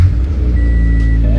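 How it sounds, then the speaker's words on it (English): A Mitsubishi Evo's engine catches and settles into a loud, steady low idle, close by, with a brief whine layered over the rumble. "Let's try to fire this thing up. See if it'll even start the car."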